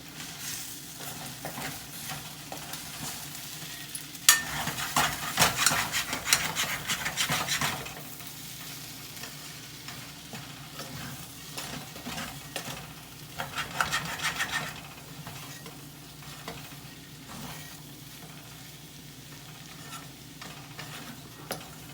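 Green bell pepper curry stirred in a pan after amchur powder goes in, a scraping, rubbing rhythm of spoon against metal over a soft sizzle, louder in a few bursts and quieter between them.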